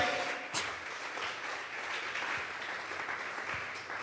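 A church congregation applauds in a steady, sustained wash of clapping during a worship service, filling the room at moderate loudness with a few sharper claps standing out.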